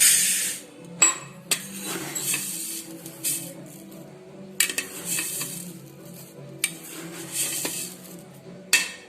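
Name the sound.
raw rice being put into a pressure cooker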